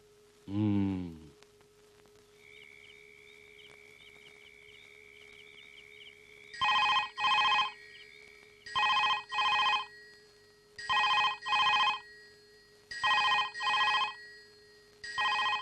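An old-style telephone bell rings in a house, five double rings in a steady rhythm, preceded by a short voice and a faint continuous tone.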